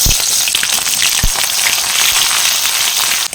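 Chopped onion frying in hot mustard oil with bay leaf, cinnamon, cloves and cardamom in a kadai, a loud dense crackling sizzle with a couple of sharp spatula knocks, close and continuous.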